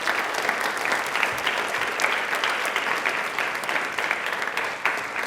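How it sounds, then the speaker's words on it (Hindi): An audience at a televised quiz programme bursts into sustained, dense applause, many hands clapping steadily for several seconds with no speech. "इसलिए तालियां प्लीज एक बार जोर बजा दीजिए।"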